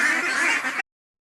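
On a duck and chicken farm, a brief nasal quack or honk of a duck bursts out close and loud, then cuts off into silence.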